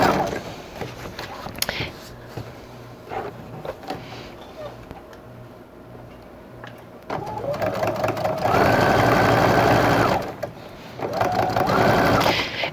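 A sewing machine stitches a pillow seam using a 1/4 inch foot, a steady mechanical whir in short runs and then longer sustained bursts, close by, with intermittent talk over it.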